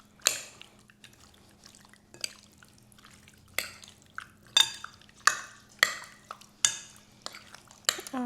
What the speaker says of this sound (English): you just wanna stir everything together